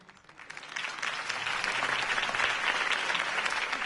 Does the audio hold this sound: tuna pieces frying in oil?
no